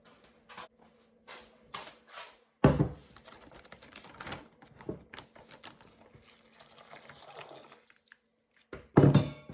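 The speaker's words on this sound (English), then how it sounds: "I do think I need to add some water to go with that bouillon cube." Water is poured into a tall, skinny pitcher holding a bouillon cube during crockpot meal prep, a light splashing trickle mixed with clicks and handling knocks.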